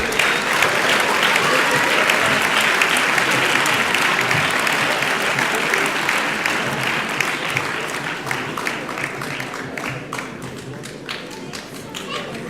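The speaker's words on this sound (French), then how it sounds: "Et vous pouvez les applaudir, bien sûr" Loud, sustained applause from an audience at a local awards ceremony honoring champions, a thick crowd clapping that thins toward the end into scattered individual claps, with faint voices underneath.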